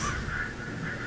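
Birds caw continuously in the video game Alan Wake, a harsh, steady crow-like call that fills the short moment without any talk.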